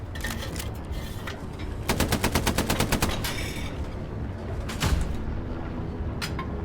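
A ship's hull gun firing in the Star Citizen video game, a loud rapid burst of about a dozen evenly spaced shots, followed by a couple of single heavier blasts over a constant low engine rumble.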